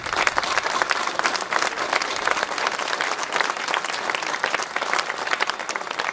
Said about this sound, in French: j'aimerais bien qu'on l'applaudisse très fort